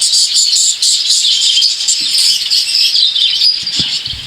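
Caged budgerigars, including black-wing and black-face blue breeder pairs, chirp constantly in a bird shop, a dense, loud high-pitched chatter with a few wing flutters and no talk.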